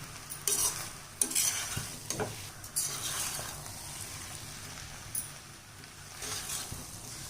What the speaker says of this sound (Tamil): இந்த மாதிரி அடியோடு சேர்த்து திருப்பி விடுங்க